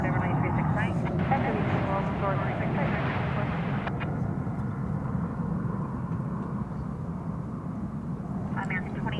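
Airliner taking off from a DFW Airport runway, a broad distant jet roar holding steady under occasional talk.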